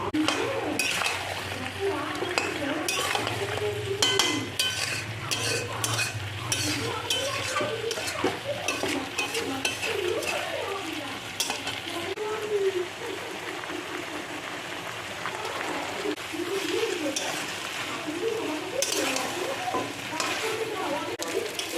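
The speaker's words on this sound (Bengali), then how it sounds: "কড়াইতে আমি ভালো করে মাংসটাকে কষিয়ে নেব" Mutton cooks and is stir-fried in a kadai, with a continuous sizzle, repeated scraping and stirring of a spoon against the pan, and metallic clinks, while someone talks over it throughout.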